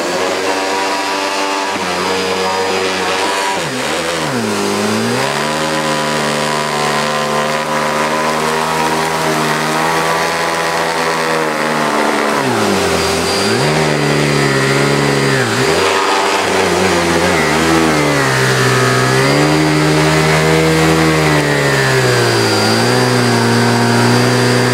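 A Panasonic MC-E42 vacuum cleaner motor runs steadily and loudly up close, its whining tone sliding down and back up several times as the speed is varied.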